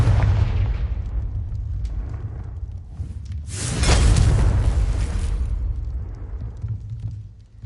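A Confringo spell explosion in Hogwarts Legacy: a loud, sustained booming blast that swells in the middle and fades, layered over continuous dense game noise with no voices.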